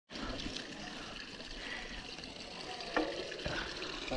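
Water rushing steadily along a hiking trail route near Buendía, a loud continuous broadband flow with a couple of brief splashy bursts near the end, no talking.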